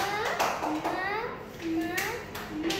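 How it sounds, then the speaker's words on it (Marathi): First-grade pupils at a village school in Manegaon clap for a classmate in short, scattered claps, while a voice and the teacher talk over them in the classroom. "चला वेदांतसाठी टाळ्या वाजवा."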